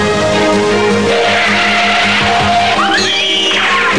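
Fiat Tempra Turbo sedan accelerating hard with tyres squealing, a loud, steady engine roar running throughout, and a rising squeal swelling near the end.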